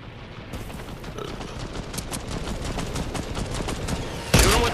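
Fortnite gunfire from a SCAR rifle: a dense, rapid stream of shots rolls on at a steady loud level, ending in one heavier boom near the close.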